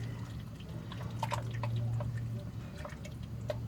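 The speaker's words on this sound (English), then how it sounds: "I think I am going to put a little bit of water in." Water pours and drips into a pot of simmering chili, light splashes and trickles over a low steady hum, close and quiet.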